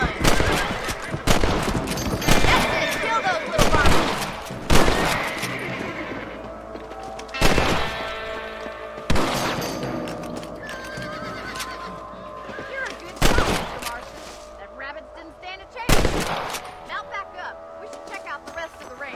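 Rifle shots ring out one by one at steady intervals in Red Dead Redemption, loud and sharp, with horses neighing and hooves clattering and voices speaking between the shots.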